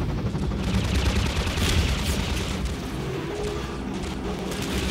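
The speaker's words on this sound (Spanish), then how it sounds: "son dos ráfagas de misiles golpeando a mis cohetes" Dense, continuous volleys of missile bursts pound rockets in the video game Half-Life 2, a steady loud barrage of blasts and rattling impacts with no pauses.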